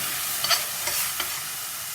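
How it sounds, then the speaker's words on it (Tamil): Carrots and tomato being sautéed in a pan for a stuffed zucchini dish, with a steady soft sizzle and a few brief stirring scrapes, moderately loud and without talk. "இதை கொஞ்சம் நேரம் நம்ம வந்து இப்போ வதக்கணும்."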